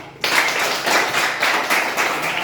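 Students in a classroom break into applause for a presenting group, the clapping starting abruptly after a brief quiet moment and continuing at a moderate, slightly uneven level from a small crowd.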